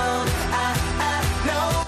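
A new pop song plays with a steady, punchy beat under layered, bright harmonic instrumentation. The music is loud and continuous throughout the brief excerpt.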